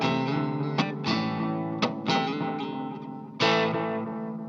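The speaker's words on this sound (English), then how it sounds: "the Moonstruck is a straight up spring reverb analog style delay" Guitar played through a Recovery Effects Moonstruck pedal, a spring reverb and analog-style delay, giving sustained distorted chords with wet, washy tails and several sharp strummed attacks that ring out loudly and alone.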